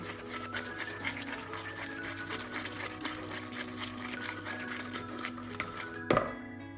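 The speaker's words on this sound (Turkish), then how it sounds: "Güzelce bir çırpıcı yardımıyla karıştırıyorum" A whisk beating flour and spices into a batter for crispy fried chicken, a continuous rapid rhythmic scraping and slapping against the bowl, ending in a sharp clatter.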